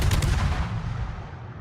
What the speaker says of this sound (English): I'm gonna just go full YOLO with my guns